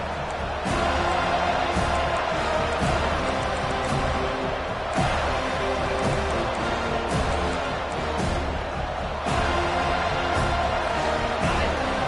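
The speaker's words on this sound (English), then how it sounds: "This crowd, full throat, spreading the eardrums and letting them know it's going to be a long day." A stadium crowd cheering in an American football video game: a dense, continuous roar of many voices at full volume that stays steady for the whole stretch, with sharper bursts here and there and a commentator talking over it.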